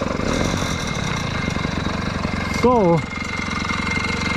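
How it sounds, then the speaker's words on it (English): An 80cc bicycle engine fitted to a 29-inch mountain bike chugs at a steady idle close by, while someone speaks over it and a brief rising whine cuts in near the end. "you have to pull the clutch if you don't want the engine to stall, because it keeps rotating there"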